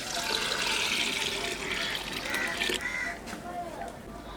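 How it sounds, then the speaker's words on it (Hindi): Half a litre of water is poured over half a kilo of chana dal in a pot, a loud splashing rush that fades after about three seconds. "अब हम इसमें डालेंगे आधा लीटर पानी।"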